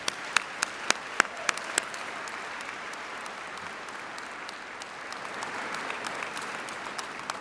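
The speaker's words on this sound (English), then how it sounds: "Let's have a round of applause for all of the graduates here today." A convocation audience at Carleton University applauds the graduates. A few sharp, close claps ring out at first, then blend into a sustained, even roar of crowd clapping.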